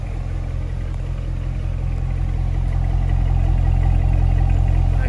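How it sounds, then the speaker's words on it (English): A 2019 Chevrolet Corvette Stingray Coupe 1LT idles with a steady, deep exhaust chug, heard close and constant with no voices over it. "Nice chug from the exhaust."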